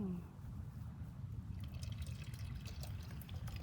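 Camp coffee poured through a double filter on a trail hike, a steady low trickle of liquid that runs continuously and close by, fairly quiet, with a brief voice near the start.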